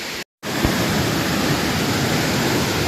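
Steady, loud rushing roar of a waterfall at Ricketts Glen State Park, heard from a wet, steep hiking trail. One brief dropout interrupts the constant wash of water.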